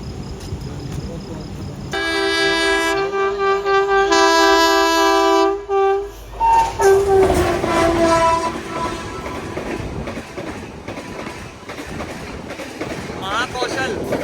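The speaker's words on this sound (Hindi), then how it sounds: "हरपालपुर से मऊरानीपुर की साइड में आ रही है महाकौशल एक्सप्रेस, तो उसके साथ में भी अपनी क्रॉसिंग होगी थोड़ी देर में" The Mahakaushal Express, train 12189 from Jabalpur to Nizamuddin, sounds a long, loud horn during a crossing, then rumbles and clatters past close by, with the steady rolling noise fading slowly.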